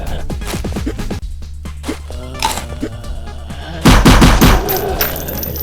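Weapon fire in a zombie video game: a quick run of sharp shots, then a louder, denser burst of gunfire near the end, with game sounds and some voice under it.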